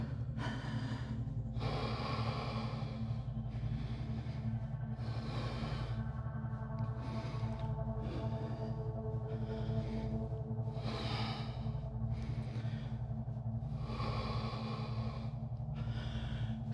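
Forceful yoga breathing repeats as a series of sharp, rhythmic exhalations through the nose. The breaths come in bursts with short pauses between them, close and loud over a steady low hum, and no one speaks.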